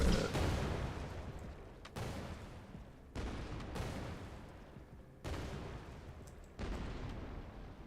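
Explosions in a video game under development boom out in five separate blasts at irregular intervals of one to two seconds, each sharp onset fading into a rumbling decay.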